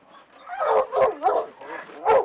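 A hunting dog on a bear hunt lets out a quick run of close, loud yips and barks mixed with whining whimpers, several short bursts within a couple of seconds.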